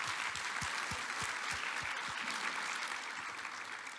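An audience at a natural resources forum session on electrification and the economy claps together in a soft, sustained round of applause, with several dull low thumps early on and the clapping tapering slightly toward the end.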